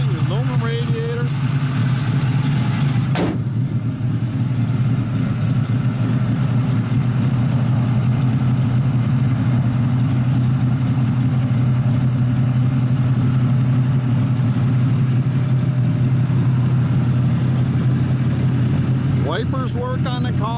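A 1967 Chevrolet Camaro SS resto-mod with an LSX V8, front-drive distributor and aluminum radiator, idles with a deep, steady rumble that runs loud and even throughout, with a brief sharp transient near the start and another near the end.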